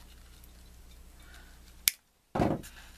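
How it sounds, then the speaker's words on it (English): A single sharp snip of scissors cuts off a poking-out end on a DIY wedding favor or bouquet, a crisp close click followed by a brief rustle of handling. "I'm just going to reach in there and cut that off."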